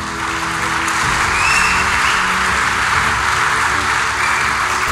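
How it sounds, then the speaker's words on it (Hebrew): An audience applauds graduates at the dedication of a yeshiva study hall in Eilat, a dense, continuous wash of clapping that holds steady and swells slightly midway. "הבוגרים שלנו, מגיע להם מחיאות כפיים בלי סוף"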